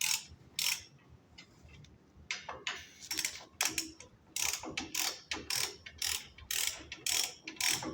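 A wrench tightens wheel hub bolts during a hub bearing replacement, making a series of crisp, close ratcheting clicks in short repeated bursts with brief gaps between strokes.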